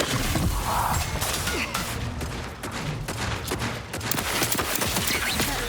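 Cannons fire repeatedly in a combat video game, sharp booming blasts and crashes arriving in rapid irregular bursts over a constant noisy din of battle.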